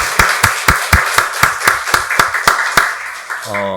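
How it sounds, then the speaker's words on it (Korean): A church congregation claps together during a Sunday worship service, a steady run of about a dozen loud, even claps that ends with a brief tone. "박수로 하나님께 영광 돌리겠습니다."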